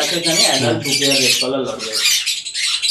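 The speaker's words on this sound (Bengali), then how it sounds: "এই হচ্ছে রেনবো লরি" A rainbow lory parrot at an exotic bird farm gives harsh, loud squawks close by, in a raspy run that continues for a few seconds.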